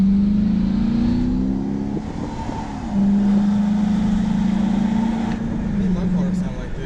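A 2007 police car in good, well-kept condition runs with a steady low engine drone that rises slightly, dips, and rises again, close and fairly loud, with people talking over it.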